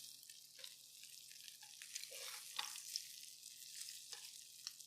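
Pecan-crusted trout sears in a skillet with a soft, steady sizzle and occasional crackling pops, quiet and close, no talking.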